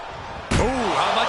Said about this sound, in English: Closing the ambulance doors,